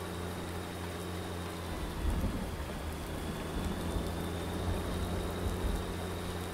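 Steady rain over a farm field in Farming Simulator 19 on PS4, a constant hiss of falling drops with low rumbling underneath, moderately loud with no talk.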